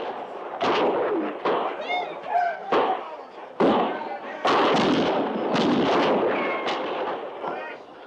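Western radio drama gunfire, with a camp under attack: repeated sharp shots and booming reports crack out in bursts, mixed with shouting voices.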